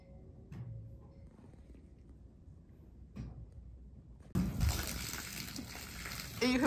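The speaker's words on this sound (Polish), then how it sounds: "I chyba właśnie odeszły wody." Amniotic fluid gushing from a mare as her waters break during foaling in a stable: a sudden broad rushing splash bursts in after quiet rustling and stays loud and steady to the end.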